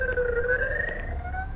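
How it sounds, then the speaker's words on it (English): An ambulance siren wails in a steady two-tone rising sweep at mid distance, loud and continuous with no voices, during security-force violence in Daraa, Syria. "this is the ambulance"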